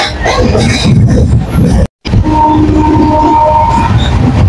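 A nearly empty moving passenger train to Jhargram, West Bengal, rumbles and clatters loudly and continuously from close inside, with a brief moment of silence partway through.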